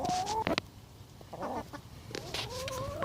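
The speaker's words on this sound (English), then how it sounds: "These chickens have never seen bread or rice." Chickens cluck and call at an allotment, several hens close by with short bursts and warbling clucks over a steady outdoor background, no talking.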